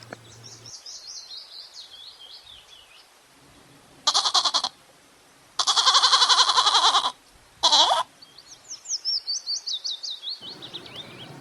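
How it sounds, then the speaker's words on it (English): Several loud, wavering goat bleats in quick succession over a backdrop of twittering birdsong, the bleats close and separated by brief pauses. "G for goat"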